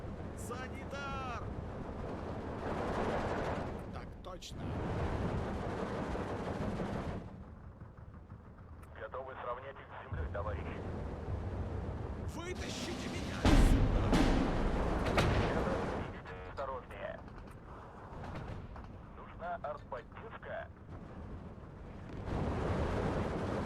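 An artillery barrage strikes a road in the WW2 strategy game Steel Division 2, with scattered booms and a heavy impact cluster midway, mixed under frequent talking and game noise.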